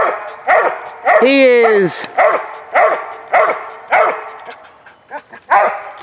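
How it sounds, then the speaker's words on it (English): A hunting dog barks at a tree in repeated loud, close barks with one drawn-out howling yelp, while someone talks between and over the barking. "Don't bark at me. Bark at them."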